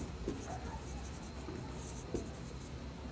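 Chalk or marker writing on a board during a physics lesson, soft faint scratching strokes in short bursts over a low room hum.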